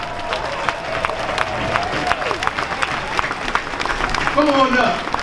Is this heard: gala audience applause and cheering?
yes